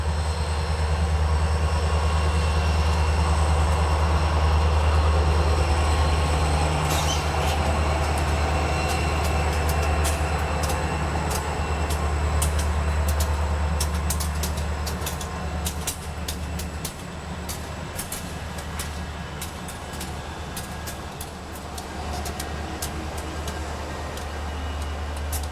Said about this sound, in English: These 7 locomotives are being moved from the Crescent service facility to a different staging area.